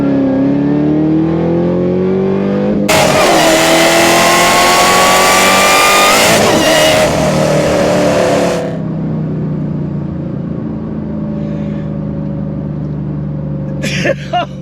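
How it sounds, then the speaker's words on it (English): A 5th-generation Chevrolet Camaro ZL1 makes a full acceleration pull from the driver's seat. The engine builds loudly through rising revs, then eases off and settles into a lower drone as the car cruises. "we are behind the wheel of my 5th Gen ZL1. Let's do our first pull."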